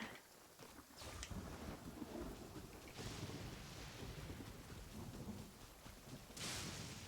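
A thunderstorm in the Genshin Impact video game gives a steady, dense roar of rain and wind, with brief bright cracks of lightning bursting through near the start, around the middle and near the end.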